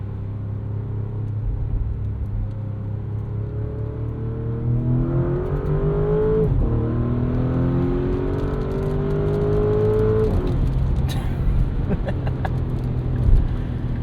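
A 2024 Porsche Cayenne S with a V8 accelerates hard on a morning commute, heard from inside as a deep engine rumble climbs through the revs, eases off at a shift, then climbs again under steady road noise.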